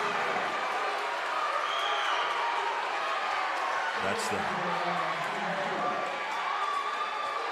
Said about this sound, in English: The Hendersonville fans are cheering.